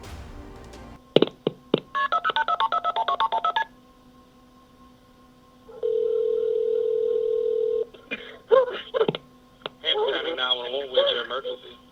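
Telephone keypad tones beep in a quick series as a 911 call is dialed, followed by a steady ringing tone, then other tones and voices on a phone line.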